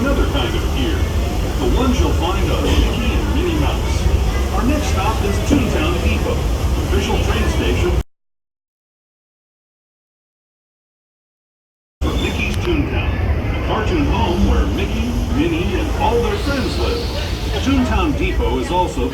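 Disneyland Railroad excursion train led by the Fred Gurley No. 3 locomotive, a steady loud rumble of cars on track with an announcer's voice over it, broken by a few seconds of silence before the running noise resumes.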